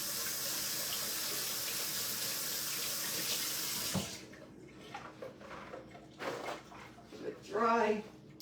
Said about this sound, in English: I'm just gonna rinse off like 2 or 3 strawberries.